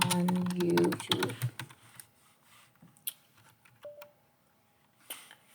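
Typing on a computer keyboard: a fast burst of close, crisp key clicks, then sparser individual taps with short pauses, and a quiet tonal beep in the middle.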